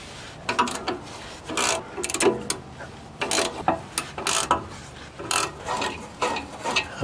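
A ratchet wrench snugs bolts on a catalytic converter of a 2004 Toyota Tundra, loud close bursts of rapid clicking and scraping in uneven strokes with short pauses between.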